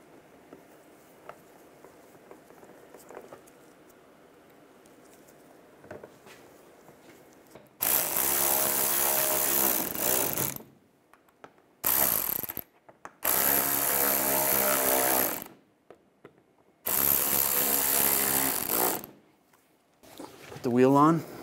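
Power tool bursts driving bolts on a 2008-2016 Chevrolet Cruze during a belt component kit job, four loud, close runs of a few seconds each separated by brief pauses, following a quiet stretch of faint background.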